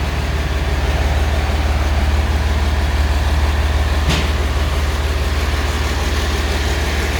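A Mercedes-Benz MBB 1621 truck with an OM366LA diesel engine idles steadily in a workshop, a loud, even low rumble with a constant throb and one brief clank midway.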